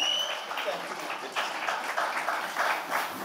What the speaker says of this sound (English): that deserves a massive, massive round of applause